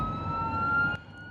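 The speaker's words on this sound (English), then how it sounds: "With sirens blaring, the bus leaves the Alpharetta Jail" Brief burst of a police siren wailing as a jail bus pulls away from the Alpharetta Jail, a steady loud tone with vehicle rumble beneath that drops off abruptly near the end.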